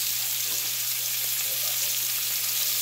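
Steak sizzling steadily in a hot pan with melted butter, garlic, bay leaves and habanero while being basted, a continuous close, bright frying hiss with small spoon clinks under a low hum.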